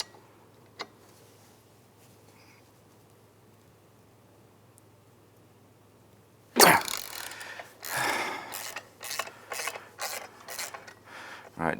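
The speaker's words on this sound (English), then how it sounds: "break that bolt loose." Ratchet working to break loose a bolt on a Can-Am Outlander ATV clutch during a clutch rebuild, heard as a sudden loud crack followed by several close, uneven bursts of clicking and mechanical strain after a long quiet stretch.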